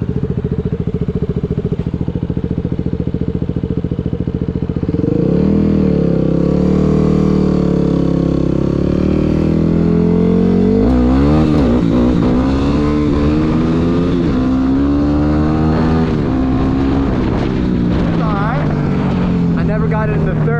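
Yamaha WR 250R dirt bike engine revving hard during a wheelie attempt, a loud close continuous roar that climbs and swells in pitch through several rising revs.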